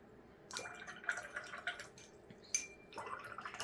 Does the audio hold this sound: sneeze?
no